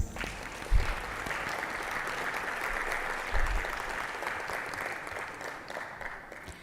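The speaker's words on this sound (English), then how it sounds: "Let's give them a round of applause" Audience applause for panelists at a medical education session on ophthalmology, a moderate, even clapping from a crowd with a couple of low thumps, lasting several seconds and easing slightly at the end.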